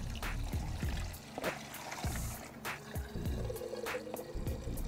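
Water pouring and splashing out of the bottom end of an engine into a container, a continuous close trickle with intermittent glugs and clanks.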